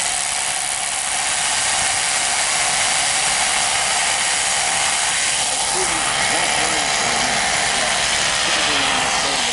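Rock drill boring into a lode-mining vein, a loud continuous rattling, hissing mechanical roar that holds steady throughout, close and dominant, with shifting tonal sweeps from the machine.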